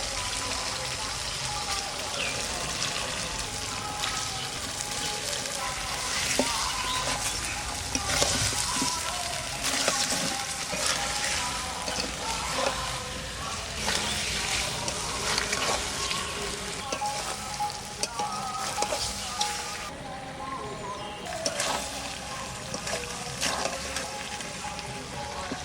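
Chicken added to spices and yogurt already fried in a pan, village-style cooking, with a loud, dense sizzle and crackle throughout and frequent stirring scrapes.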